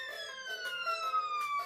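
An ambulance siren passes by, its loud wailing tone sliding steadily lower in pitch as it goes, heard alone with nothing else over it.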